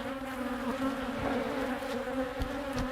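Honeybees buzz close around a beekeeper's head during a hive inspection, a continuous dense drone with individual bees swelling louder as they pass near.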